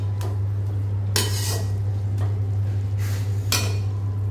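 A spoon scrapes and stirs spices through basanti pulao in a pot, giving a few irregular gritty strokes over a steady low electrical hum, close and moderately loud, with no voices.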